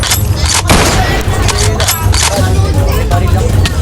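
Rapid bursts of gunfire in Minecraft crackle continuously over a low droning background, dense and loud throughout.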